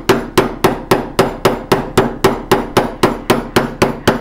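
A texturing hammer with a small raised bump strikes metal in a steady run of about fifteen sharp, evenly spaced blows, loud and close, with no talking.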